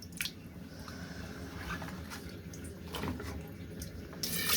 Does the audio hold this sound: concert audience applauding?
no